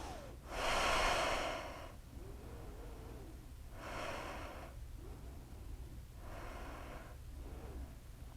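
Slow, steady breaths during a quiet yoga session: three long, soft breathy swells, each rising and fading, spaced a few seconds apart and heard close and alone.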